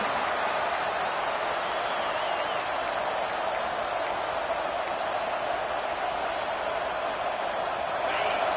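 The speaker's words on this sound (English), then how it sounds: "Listen to the crowd energy here in the early going." Steady roar of a large stadium crowd at a Penn State versus Michigan college football game, a constant dense wash of voices and noise throughout, with no clear cheering peaks or individual shouts.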